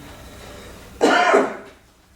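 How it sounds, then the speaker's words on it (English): A single harsh cough or throat-clearing burst during a synagogue Shabbat service, close and fairly loud, rising out of quiet room tone and fading within about half a second. "you've heard me cough a few times"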